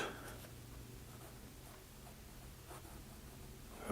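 A Pilot Kakuno fountain pen with a medium nib writes on paper, giving a faint, continuous soft scratching with slight stroke-by-stroke variation, close and quiet with no speech.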